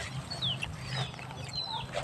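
Several chickens cluck softly close by, with short squawky calls over a low background rumble.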